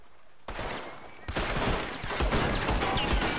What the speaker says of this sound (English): Rapid fire from the hip.